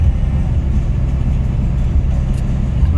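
A Smart car drives along a road, its engine and tyre rumble steady and close throughout with no talking.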